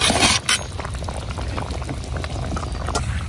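Bottle gourd curry with fish head boils on a stove on a winter morning, a dense, continuous bubbling and simmering close by, with small clinks, and no one speaking.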